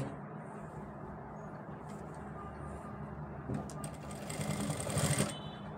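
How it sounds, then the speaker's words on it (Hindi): A sewing machine stitches the pocket of a ladies' pant, a close rattling whir that starts soft and builds louder in the final seconds, with small clicks and fabric handling mixed in. "तो दोस्तों पहले हम यहाँ से सिलाई शुरू करेंगे"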